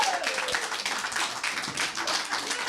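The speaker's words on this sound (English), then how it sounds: "Give her a big round of applause." Studio audience applause for an award nominee on a live TV news show, a sustained burst of many hands clapping close and fairly loud for the whole stretch.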